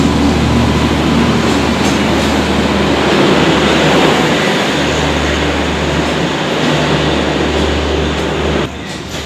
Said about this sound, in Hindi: अपनी आ चुकी 12212 आनंद विहार मुजफ्फरपुर गरीब रथ एक्सप्रेस, जो कि 1:45 गाजियाबाद सेट का वेब 7 लोकोमोटिव के साथ।